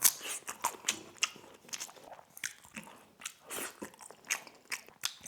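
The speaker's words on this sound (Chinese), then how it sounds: "这牛肉真的直接一咬它就散开了" Braised beef short rib is bitten and chewed up close, giving soft crunchy bites and wet chewing noises in irregular bursts, loud in the foreground with no speech.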